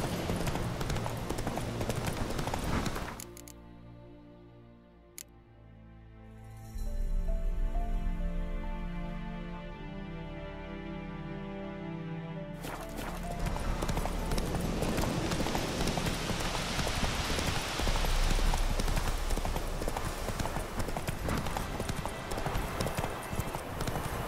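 In The Witcher 3, the horse Roach's hooves clip-clop in a steady, rhythmic trot, loud and close, pausing briefly in the middle before resuming over a constant outdoor hiss, with no talk.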